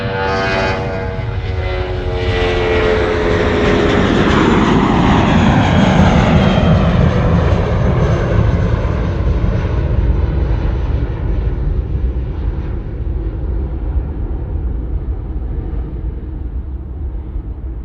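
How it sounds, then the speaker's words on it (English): Jetstar Airbus A320 taking off on runway 34 right, a loud swelling jet engine roar that sweeps downward in pitch as the aircraft passes and climbs away, sustained and close, with no talking. "Jetstar 320 now. Catch up, Kurt. Rolling 34 right."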